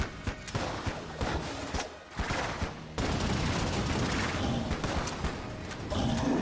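Rapid projectile fire from a slingshot and a Yari launcher in the game Enter the Gungeon, a dense, continuous stream of sharp shots and bursts at close range with no speech.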